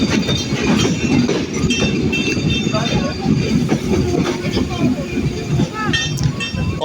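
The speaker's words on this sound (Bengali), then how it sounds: "আমাদের এই চিত্রা এক্সপ্রেস ট্রেন মোট 3টি বিভাগ অতিক্রম করবে" The Chitra Express passenger train rumbles along the rails with a steady clatter of wheels and carriage noise, heard from inside and running continuously.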